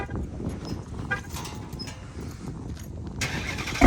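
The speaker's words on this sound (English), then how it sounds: "A little cold start for y'all real quick." A Dodge Charger Hellcat widebody makes a cold start, heard as a low, rumbling engine idle at moderate loudness, close by and without talk.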